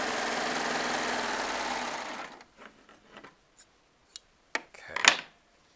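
Scissors snip through fabric near a serger in a quilting session. A steady machine hum fades out, then several short, sharp snips follow in quick succession, close and fairly loud.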